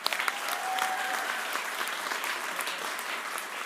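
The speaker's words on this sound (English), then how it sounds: "could we please have a huge round of applause" Audience applause at the Govhack 2016 awards night, a dense steady clapping from a large room that holds loud and continuous for the whole stretch with no talk over it.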